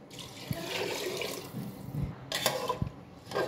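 Water splashes and pours steadily into rice in a pressure cooker, with a continuous liquid rush, scattered drips and clunks of the pot, and no talking.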